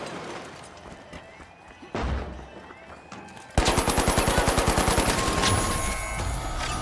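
Rapid automatic gunfire from the player's weapon in the fast-paced shooter The Finals, starting with a couple of isolated shots, then a dense loud burst of evenly spaced rounds, close and dominant over game noise.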